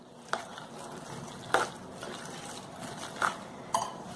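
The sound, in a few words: stirring and mixing semolina batter in a bowl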